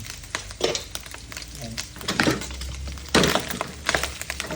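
Hot oil splatters and crackles while banana blossom fries in a pan, with uneven bursts of sizzling and scraping, moderately loud and close, mixed with brief utensil clatter.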